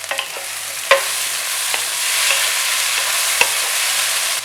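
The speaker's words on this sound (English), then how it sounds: "So I'm sauteing everything in high heat." Mushrooms sautéing over high heat for mushroom pepper fried rice, a loud steady sizzle broken by a few sharp clacks of the stirring utensil against the pan.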